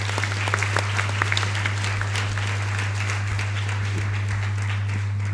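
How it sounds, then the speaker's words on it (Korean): A church congregation at a combined youth worship service applauds loudly, dense clapping from a large crowd sustained throughout over a steady low electrical hum, with no talking. "다시 한번 크게 박수 쳤으면 좋겠습니다"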